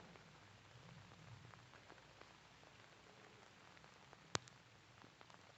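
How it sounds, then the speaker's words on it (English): Light rain pattering softly and steadily in a quiet garden, with one sharp louder tap standing out near the end. "it's starting to rain on me"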